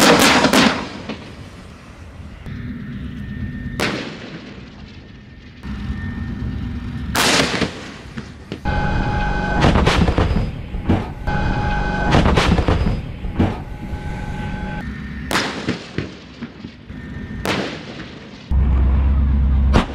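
A Korean K9 self-propelled howitzer fires in the desert, a series of sharp, heavy booms spaced irregularly over the stretch, each followed by rumbling echo, with steady vehicle engine noise in between.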